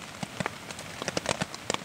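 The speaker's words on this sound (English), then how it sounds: "it's still pissing it down with rain, and it's going to be pissing it down for the next wee while" Heavy rain beside the Great Glen Way trail toward Fort Augustus, heard close up as scattered drops and pattering taps over a soft hiss, fairly quiet with no voices.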